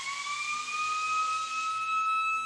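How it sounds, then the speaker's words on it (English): A steady, loud hockey arena siren and horn sound together on two sustained tones, unbroken for the whole stretch, with no talking over it, at a women's college hockey game. "as the siren and horn sound simultaneously, Kira Stack goes back to her net"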